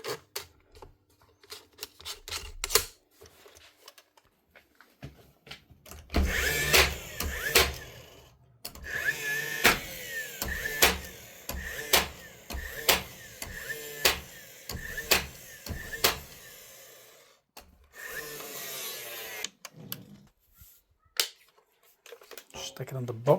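A Dewalt DCN660 cordless finish nailer fires a series of sharp, close snapping shots, some in quick succession and others spaced apart, with quiet stretches and talking in between.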